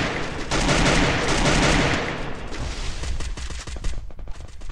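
Rapid video game gunfire during a competitive match, dense bursts of automatic shots and overlapping fire, loud and close at first, then thinning into scattered sharper cracks.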